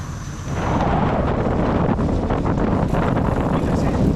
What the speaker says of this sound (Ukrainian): Ух, вітер холодний.